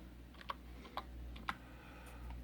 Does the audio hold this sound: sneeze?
no